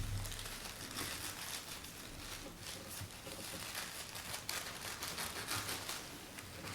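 A plastic bag is cut into strips for weaving, giving steady soft crinkling and rustling with small snips, close and fairly quiet.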